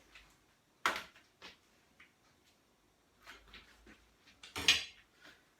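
A sharp knife cuts peeled boiled eggs in half on a board, with a few soft, separate knocks and clicks, two of them louder, and quiet gaps between them.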